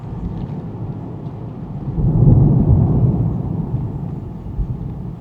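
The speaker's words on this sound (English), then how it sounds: "I can still hear a load of thunder going on" Low, distant rumble of thunder swelling midway and slowly fading, heard alone against a quiet background.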